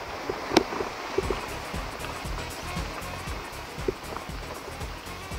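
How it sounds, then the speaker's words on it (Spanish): The Cares river flowing near Posada de Valdeón, a steady broadband rush of water with a few faint clicks and knocks over it. "Este es el río Cares."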